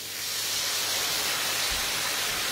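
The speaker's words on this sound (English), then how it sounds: "That's just going to form some steam, evaporate, give it a little bit more intense heat" Water splashed into a hot pan for fajitas hisses into steam, a steady broadband sizzle that holds loud and close for the whole stretch with no talking over it.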